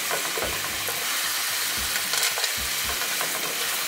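Bacon bits frying in a pan for a double bacon-jam cheeseburger, a loud close sizzle with a quick run of scraping, clattering stirs, no voices.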